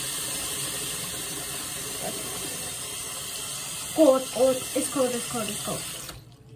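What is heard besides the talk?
tap water running and splashing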